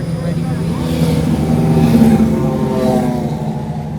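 Fiat Marea 2.4 engine roaring loudly near Parque Barigui, a steady, close, heavy drone that swells slightly mid-way and holds throughout.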